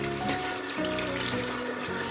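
Tap water runs steadily into a sink during handwashing, a continuous close splashing hiss with shifting tone as hands move under the stream.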